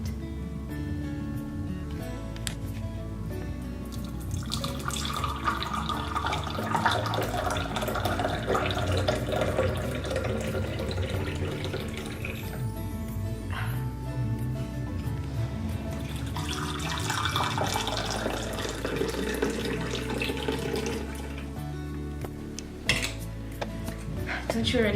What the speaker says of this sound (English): So I'm just gonna pour it, and you're gonna just, you know, for a second, you can close your eyes and just listen to the teapot.